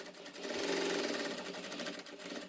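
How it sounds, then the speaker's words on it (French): Sewing machines run steadily in a clothing repair workshop, a dense continuous mechanical whir and rattle held at a fairly loud level through the whole stretch with no talk. "le chant des machines à coudre en toile de fond"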